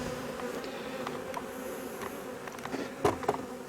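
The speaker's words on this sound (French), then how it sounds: "Vous voir, les abeilles sont dans la hausse." Honeybees hum steadily in a beehive super during a summer honey harvest, with a close buzzing drone. A few sharper buzzes and light knocks come near the end.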